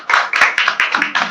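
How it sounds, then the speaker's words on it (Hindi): A small group claps hands in a few distinct, rhythmic bursts, close and fairly loud, about six separate claps in quick succession. "वेरी गुड यार, तालियां बजाओ।"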